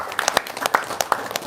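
Audience applause breaks out in a short burst of scattered, fairly close hand claps with an uneven rhythm, over a faint background.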